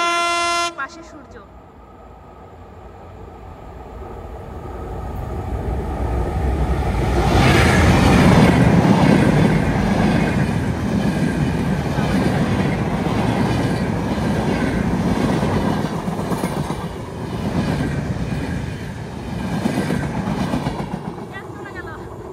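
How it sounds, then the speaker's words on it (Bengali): A train rolls past on railway tracks with a brief horn at the start, then a long, loud rumble and rhythmic clatter of wheels that builds and holds nearby, while people talk over it. "সুন্দর একটা দৃশ্য, ট্রেন আসছে"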